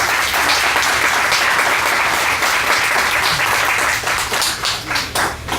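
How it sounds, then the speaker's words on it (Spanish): A church congregation applauds steadily and loudly, dense clapping filling the whole stretch, thinning slightly toward the end. "Denle un aplauso al Señor."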